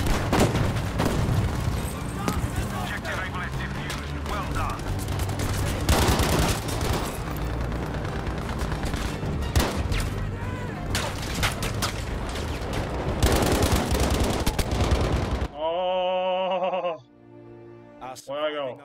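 Artillery and gunfire in the shooter game Battlefield 5 make a dense, loud wall of booms, bursts and rattling shots that runs almost continuously before cutting to a quieter tail with other game sounds.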